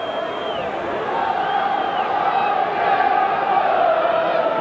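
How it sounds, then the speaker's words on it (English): Halifax rugby league crowd at a match against Leeds, a broad sustained roar of cheering and shouting that swells slightly, with a commentator's voice faintly audible over it. "And now the Halifax crowd really behind."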